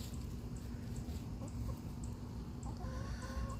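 Chickens cluck softly in a busy barnyard at Fort Christmas under a steady background hum, with occasional higher squawks toward the end.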